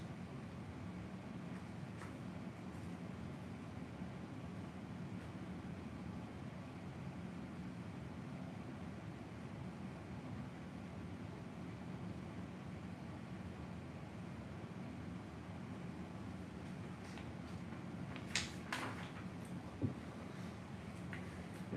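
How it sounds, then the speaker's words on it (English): An indoor air conditioner runs with a faint, steady low hum that holds evenly throughout, with a couple of soft clicks near the end. "It's not completely silent right now because my AC just kicked on"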